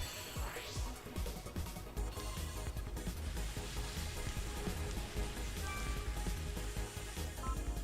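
Rain falls during a Pokémon Battle Revolution match, a soft, steady patter of drops on a surface mixed with quiet game sound effects, faint and continuous throughout without talk.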